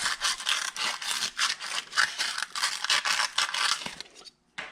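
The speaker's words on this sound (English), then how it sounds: "Now I'll take some 120 sandpaper, and I'll just work all those surfaces." Scraping strokes of 120 grit sandpaper worked over the reed surfaces of a 70cc Minarelli G2 moped engine reed block, a fast, steady rhythm of close rasping passes that stops near the end.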